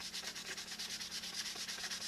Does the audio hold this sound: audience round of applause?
no